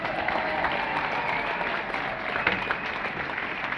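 An audience at an evening gathering for Bologna's football club claps in sustained, dense applause that fills the room at an even level, with faint voices mixed beneath.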